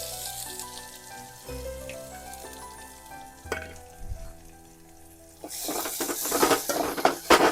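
Mustard seeds, curry leaves and onion tipped into hot oil for spiced leftover roti, a loud crackling sizzle swelling near the end over soft background music.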